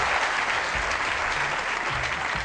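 A television studio audience claps in a dense, even wash of applause, continuous and close, with a faint low voice beneath.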